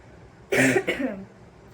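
A person coughs twice in quick succession, loud and close, in a quiet room without talk.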